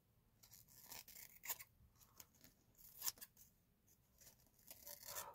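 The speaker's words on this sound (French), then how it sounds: "je vais couper ma petite dentelle tout autour" Scissors snip through paper lace trimmed around a handmade card, a close series of irregular crisp cuts and rustles with brief pauses between strokes, quiet and without any talking.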